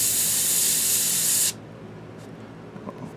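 An airbrush sprays paint onto a Reaper hill giant miniature in a loud, close, steady hiss for about a second and a half, then stops abruptly, leaving quiet room tone with faint small clicks.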